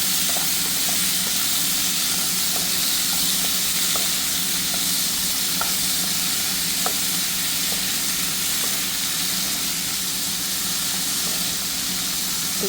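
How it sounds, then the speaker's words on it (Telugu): Tomatoes cooking in a curry pan, a dense steady sizzling hiss with faint light taps of stirring scattered throughout, close and constant. "టమాటోస్ వేసుకున్నాక కొంచెం మరిగేదాకా ఇలా కలుపుకుందాం."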